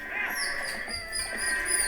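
Goats being herded in Zelda: Twilight Princess give steady, tonal bleating calls that sound almost like lowing cattle, continuous and fairly loud over game ambience.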